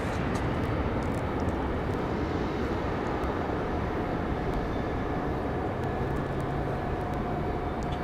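Airliner touching down at Raleigh-Durham International Airport, a steady broadband jet roar with a low rumble holding at one loud level throughout, heard from the spotting area.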